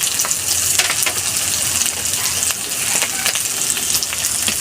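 Ground spices, Kashmiri chili powder, hot chili powder, turmeric and salt, frying in a pan with a steady, dense, loud hiss and crackle close by, continuous throughout with faint stirring scrapes.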